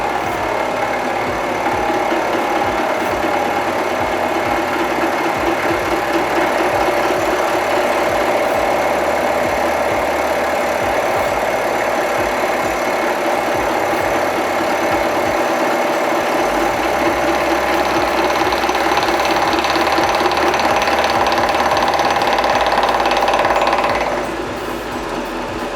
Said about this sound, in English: here we are on the outer edge of the clamping plate, just taking a finishing cut to take a few of the